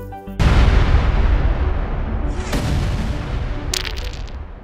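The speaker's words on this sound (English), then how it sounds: "10's rocket ride is really, wait for it, taking off!" A toy rocket blasting off in a cartoon, with a sudden loud roaring whoosh that rumbles on and fades, followed by a brief high sparkly sound near the end.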